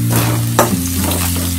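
Peanuts frying in oil and being stirred in a pan while making poha: a close, steady sizzle over a low hum, with a sharper scrape of the spoon partway through.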